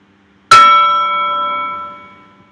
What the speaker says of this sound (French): Je vais prendre le son de la cloche.